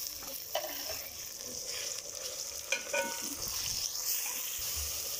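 Beef mince sizzling as it fries in a pan, with repeated stirring scrapes and clicks over a steady hiss throughout, close and fairly loud, no talk.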